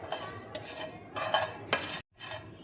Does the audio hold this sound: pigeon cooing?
no